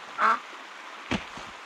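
A cartoon duck in an animated children's story gives two short quacks, the first a clear nasal squawk and the second a brief, fainter honk, with no talking over them.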